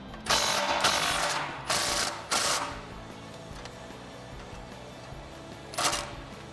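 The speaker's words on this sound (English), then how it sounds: "take a 15mm deep socket in my impact wrench and loosen up the clamp" An impact wrench with a 15mm deep socket loosening the exhaust clamp on a Jeep Wrangler JL: several short hammering bursts in quick succession, a pause, then one more burst, close up over a low background.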